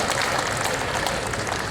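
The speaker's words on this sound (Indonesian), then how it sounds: "Ya tepuk tangan untuk semua ini ya." An audience at a city government awards event in Malang applauds, a dense, even clatter of many hands clapping together throughout.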